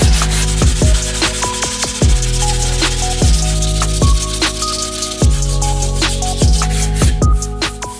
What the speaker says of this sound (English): I'm going to go ahead and move up to the other arch here and get it sanded down